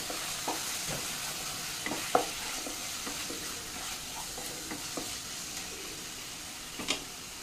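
Chili powder and salt being stirred into rice in a pan, with irregular scraping strokes of a spoon over a low, steady background sizzle and no talking.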